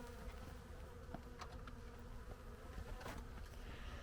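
A dense, steady hum of many Carniolan honey bees buzzing close by at an opened breeding hive, with individual bees droning past now and then, no voices.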